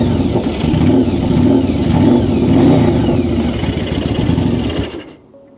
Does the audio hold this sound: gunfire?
no